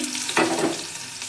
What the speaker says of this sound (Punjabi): ਆਪਾਂ ਪਾ ਦਵਾਂਗੇ ਲਸਣ ਬਰੀਕ ਕੱਟਿਆ ਹੋਇਆ ਆਪਾਂ ਲਸਣ ਨੂੰ ਥੋੜਾ ਜਿਹਾ ਭੁੰਨਾਂਗੇ